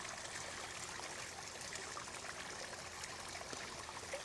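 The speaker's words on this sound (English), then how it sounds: "You hear the water coming from the waterfall over here." Water from a garden waterfall spills steadily into a pond, a soft, even trickling and splashing that continues without a break.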